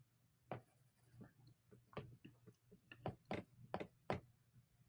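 Handwritten notes on a chemistry lesson about ionization energy trends: a pen scratching and tapping in short irregular strokes, soft and close, over a faint steady hum, with no talking.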